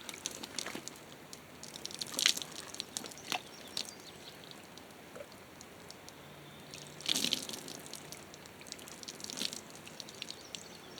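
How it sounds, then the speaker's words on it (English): Water pours and splashes during a bucket shower outdoors at a homestead, with soft steady trickling and dripping broken by a few louder splashing bursts as someone rinses off. No one speaks. "And now it's just basically rinsing off."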